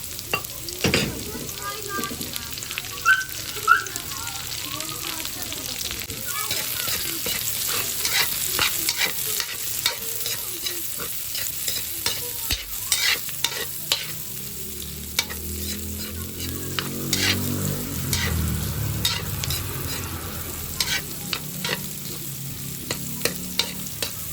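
Onions sauté in a pan with a steady sizzle, punctuated by frequent close spatula scrapes and taps against the metal throughout, the frying growing fuller toward the end.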